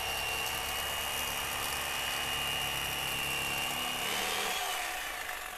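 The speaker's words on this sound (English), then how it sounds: "I've got the electric knife ready to go, and we're going to go ahead and fillet this fish." Electric knife filleting a chain pickerel, a loud continuous buzzing whine up close with a slight shift in pitch as the blades work through the fish, no talking.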